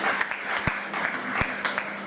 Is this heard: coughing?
no